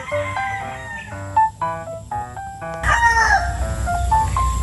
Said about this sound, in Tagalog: Mga manok panabong. Pang derby.